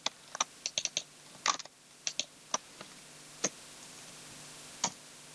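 Sparse keystrokes on a computer keyboard entering a number into an Excel spreadsheet: a handful of crisp, close clicks in small irregular bursts, with quiet gaps between them and no talking.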